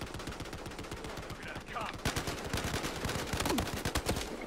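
Rapid automatic gunfire from the shooter game Battlefield Hardline, with dense bursts and sharp shots rattling continuously throughout, some louder volleys later on, and faint voices mixed underneath.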